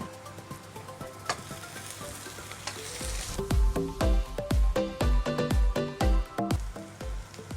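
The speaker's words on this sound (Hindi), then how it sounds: "जब प्याज का ऐसा कलर हो जाएगा तब हम इसके अंदर लहसुन और अदरक का पेस्ट डाल देंगे।" Onions sizzle and fry with garlic and ginger paste in a karahi for a gola kabab dish, a steady close crackle with rhythmic stirring thumps through the second half.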